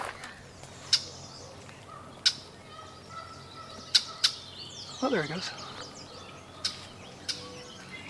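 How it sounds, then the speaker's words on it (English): A cackling blackbird calls near the St Lawrence River in the 1000 Islands, giving a string of sharp, evenly spaced chips and one longer, drawn-out descending call midway, with a person speaking briefly. "Sort of cackling blackbird."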